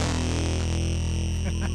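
Thick, crushed fuzz distortion from the BitFuzzer plugin, a loud continuous buzzing tone with a gritty, saturated texture held for just under two seconds.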